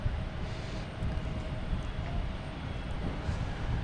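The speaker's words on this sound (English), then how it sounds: "we have a JetBlue taking off to Atlanta in A320" A JetBlue Airbus A320 taking off from Boston Logan gives a short burst of steady, rumbling engine noise, fairly even in level from start to finish.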